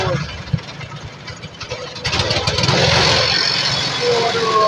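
A sugarcane juice grinding machine at a stall selling pure green sugarcane ice drinks: a motor hums, then grinds louder as cane is fed through, with people talking nearby.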